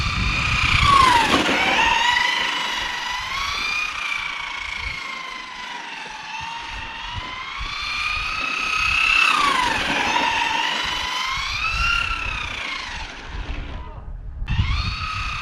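A Maverick Quantum R RC car being driven to warm up: a high, whining electric motor climbs and falls in pitch as it speeds up and slows, close and continuous for the whole stretch, with a brief dip near the end.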